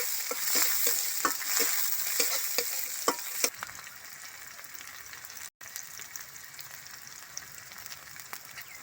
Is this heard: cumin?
yes